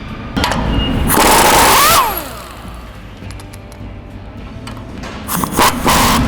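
An impact wrench removes the cutting edge bolts on a snow plow, with a loud burst of buzzing hammering followed by a quieter whirring and another short burst at the end.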